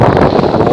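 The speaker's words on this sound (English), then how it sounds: "it's windy now" Wind buffets hard at the Grain Tower sea fort off Kent, a loud, close roar of gusting air battering the microphone over a brief moment.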